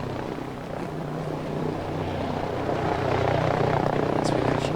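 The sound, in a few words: helicopter supply drop flying in, battle royale video game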